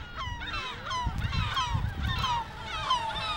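Seagulls call repeatedly in loud, overlapping squawks near a small 3-inch micro drone in flight, whose steady whine runs underneath throughout.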